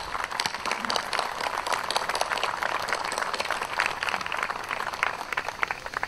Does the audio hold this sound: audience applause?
yes